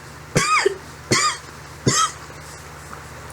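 Three separate coughs spaced about three-quarters of a second apart, each a sharp burst with a brief raspy tail, close to the mic and alone over a faint low hum.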